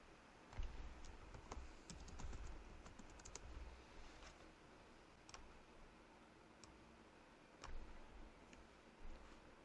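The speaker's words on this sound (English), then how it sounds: "She's typing." Someone types on a computer keyboard, giving soft, close clicks in irregular runs with short pauses and a couple of louder taps, over steady low room noise and no talk.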